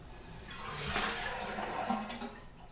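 Leftover water draining out of a toilet tipped backwards during removal in a bathroom, a soft close gurgling splash lasting a few seconds.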